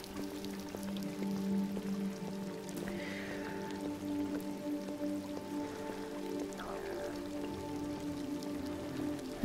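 Steady rain patters and drips in Detroit: Become Human, a soft even wash of falling water under faint low game ambience, quiet and continuous with no talk.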